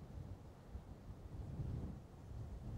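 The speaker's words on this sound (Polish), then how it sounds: "tylko wiatr mi trochę robotę utrudnia" Wind buffets the microphone at the Fokstumyra nature reserve, a low steady rumble with gusty swells, no voices.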